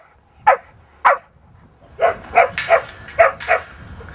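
Herding dog working sheep on a farm, giving a run of sharp barks, two separated at first and then a quicker cluster of five or six, close and loud over a quiet background.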